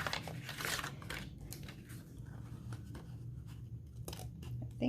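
A blade slides through paper in a paper trimmer track, giving soft, close scratchy cutting strokes over a low background hum.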